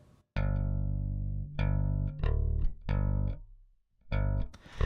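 Solo bass guitar notes plucked with a pick, each sharp attack ringing out and decaying, played in a loose rhythm with short gaps between phrases.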